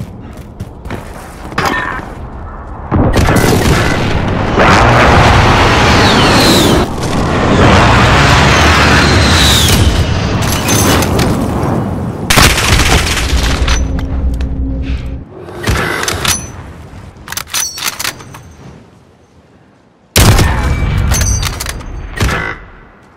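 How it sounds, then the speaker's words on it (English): Precision airstrike explosions in Call of Duty: Modern Warfare, a cyber attack game mode: a run of loud, heavy booms and thuds packed close together, with gunfire and mechanical clatter between the blasts, two of them sudden and sharp. "Enemy precision airstrike inbound."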